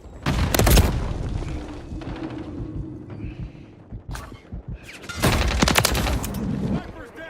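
Gunfire in a Modern Warfare 3 multiplayer match: loud bursts of automatic fire crack out in two main volleys, with scattered shots and in-game radio chatter between them.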